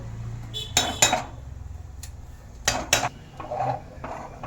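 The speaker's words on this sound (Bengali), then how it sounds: "আমি এবারে ঢাকনাটা দিয়ে দিচ্ছি, ঢাকনা দেওয়া ছিল, ঢাকনাটা আমি খুলে দেখছি" A lid is handled on a cooking pot of mixed vegetable paneer curry, producing several sharp metallic clinks and clatters in two clusters, close and fairly loud over quiet kitchen background.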